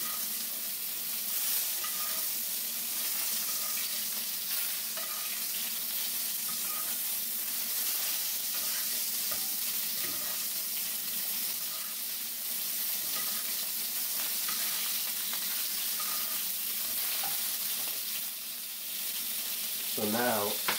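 Scallops and lobster tail searing in hot oil in a pan, a continuous dense sizzle holding steady and close throughout, with a brief louder flare near the end.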